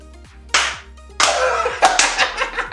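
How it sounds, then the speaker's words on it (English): A few sharp hand claps burst out, each a loud smack followed by a brief flurry of clapping, in a small room during a talk show opening. "Clap it out!"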